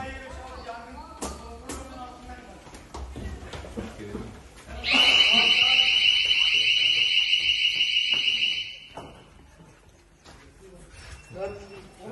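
A loud, steady electronic fire alarm sounds for about four seconds during a hospital fire drill at Savaştepe State Hospital, while people talk urgently before and after it.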